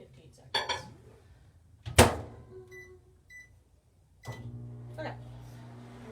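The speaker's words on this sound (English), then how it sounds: "I'm going to pop this in the microwave for like 15 seconds." A microwave oven melting candle wax for pumpkin spice candles: clunks from its door, a few short button beeps, then a steady low hum as it starts running, with a voice briefly audible.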